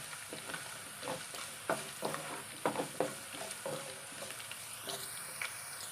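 Fresh curry leaves sizzle and crackle in hot oil for a lime pickle, a steady frying hiss broken by sharp pops and spatters, close and moderately loud, with no voices.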